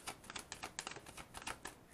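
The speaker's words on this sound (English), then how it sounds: "Do one more shuffle and then I pull." Tarot cards being shuffled by hand, quick faint riffling clicks in uneven bursts, close and quiet with no voices.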